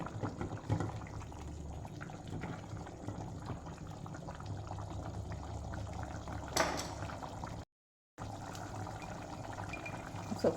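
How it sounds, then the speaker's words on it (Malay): Chicken in tomato sauce simmering in a pot as the liquid reduces, a constant bubbling and hissing texture with a brief cut of silence partway through. "Masak sehingga air dia kekurangan."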